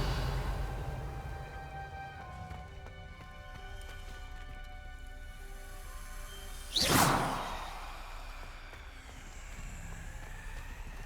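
Revelio spell cast in Hogwarts Legacy, a single sharp rising whoosh midway through, bright and loud, over a quiet droning musical ambience.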